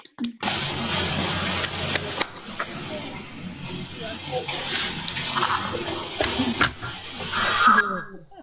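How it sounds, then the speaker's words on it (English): An audience applauds after an expert talk, producing continuous noisy clapping heard up close for several seconds with a few louder individual claps. "That's an applause. Very noisy."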